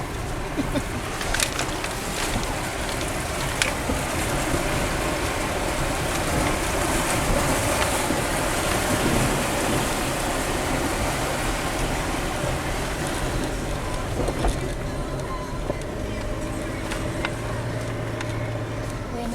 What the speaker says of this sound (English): We've crossed the river a couple of times so far.